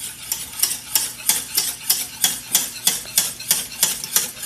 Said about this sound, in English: But you want to stir it all over, all around.